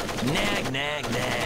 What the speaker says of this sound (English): I've got to listen to the constant gunfire and your constant complaining.